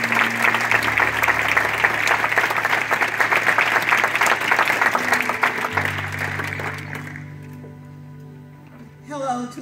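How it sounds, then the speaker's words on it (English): An audience at a Martin Luther King Jr. prayer breakfast gives loud, sustained applause for the NAACP branch president, dense clapping filling the room for several seconds before tapering off into quiet. "applause."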